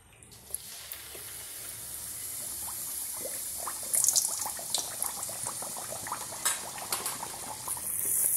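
Coconut boorelu sweets deep-fry in hot oil in a pan, giving a close, steady sizzle with bubbling and crackling pops that grows a little livelier as the batter rises.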